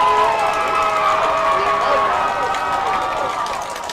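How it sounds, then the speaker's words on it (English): Home crowd at a boys' varsity high school football game, South Tahoe Vikings against the Hug Hawks, roaring and cheering in a sustained, fairly loud wash of voices that tapers slightly toward the end. "Viking crowd gets into it."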